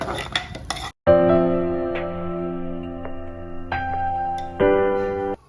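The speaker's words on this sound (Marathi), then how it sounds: "आणि हा मसाला तेल सुटूस तोपर्यंत आपण परतून घेऊ." Homemade masala being sautéed in oil in a clay pot for stuffed brinjal, with close metallic scraping and stirring strokes, a brief pause, then steady stirring with a few sharper clinks against the pot.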